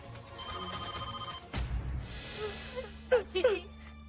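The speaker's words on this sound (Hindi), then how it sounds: "अरे हम देखते हैं किसका फोन है।" A telephone rings with a steady electronic tone in a household scene from a Hindi TV drama, followed by a loud jolt and then voices and whimpering sounds over the fading ring.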